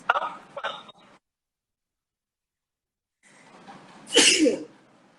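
A single sharp sneeze bursts out after a pause, preceded by a couple of brief breathy sounds, close and fairly loud.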